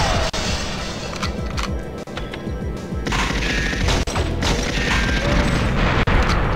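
A communications link console is destroyed in the GoldenEye 007 bunker level, giving a dense, continuous run of loud crashing explosions and rapid gunfire bursts that stays busy throughout, with no talk.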